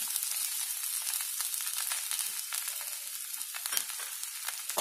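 Coriander leaves with their stems sauté in a hot pan for chutney, giving a steady close sizzle and crackle throughout with a few brief stirring scrapes and no voices.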